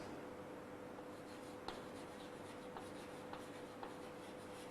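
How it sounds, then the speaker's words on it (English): Pen or marker strokes from drawing biology diagrams of cell division sound faintly over a steady low hiss, with a few soft scratchy ticks and no talking. "Let us draw these two diagrams."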